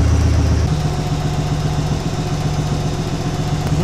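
A 1959 Soviet K-750/M-72 motorcycle with a boxer engine fitted with fuel injection idles steadily, a close, loud, even low chugging throb that holds without change.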